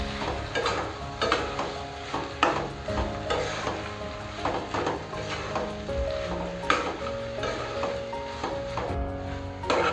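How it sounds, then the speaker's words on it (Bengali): Fried peanuts are stirred in a frying pan with papaya and prawns cooking, giving a continuous sizzle with frequent spatula scrapes and clacks against the metal at an uneven rhythm, close by. "ভেজে রাখা বাদামটা দিয়ে আমি একটু নেড়ে নিচ্ছি"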